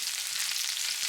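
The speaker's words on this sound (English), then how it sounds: "Sauté until the onions turn translucent and the garlic becomes fragrant" Sliced shallots sauté in hot cooking oil over medium heat, a brief steady hissing sizzle heard close up, with no voices.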